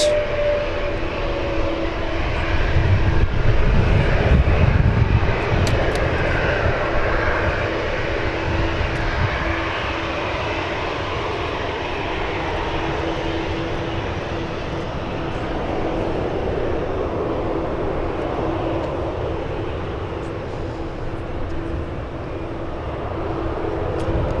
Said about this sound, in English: the E175 is a little close to touchdown, so they're gonna let that one land first